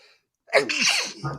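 A single loud sneeze bursts out after a brief quiet, followed by a short breathy exhale.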